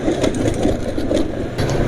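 Diesel engine running on Seiken SAE 40 oil and growing rougher as it warms, a steady close mechanical clatter with regular knocking pulses over a low hum, no voices.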